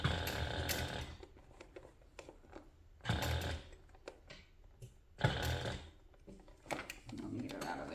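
A sewing machine stitches a leather handbag in short, repeated bursts with pauses in between, close by, while a person talks quietly over it.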